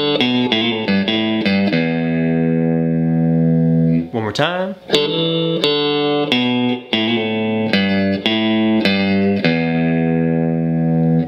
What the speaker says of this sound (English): Okay, let's get another lick in this position down using our blues scale notes.